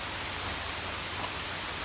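Rain falls steadily on a forest nature trail during a hike near a visitor center in Gatlinburg, Tennessee, giving a dense, even hiss with no voices.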